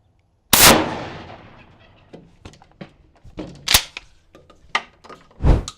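A shotgun slug fired at a 45-pound steel plate gives a loud sharp blast with a ringing decay, followed by several smaller knocks and clanks nearby.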